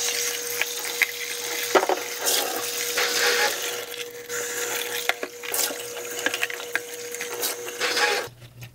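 Water splashes and rushes while a Hoover carpet shampooer tank is rinsed out, loud and close with uneven sloshing bursts and knocks of plastic, lasting several seconds before cutting off abruptly.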